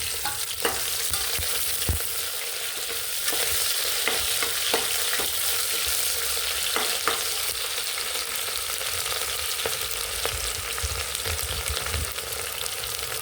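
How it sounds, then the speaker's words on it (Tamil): Green chillies and onions sautéing in a pan for veg kurma, a steady close sizzle with occasional spoon scrapes and taps while stirring, no voices. "பச்சை மிளகாய், வெங்காயம், கொஞ்சம் வதங்கணும்."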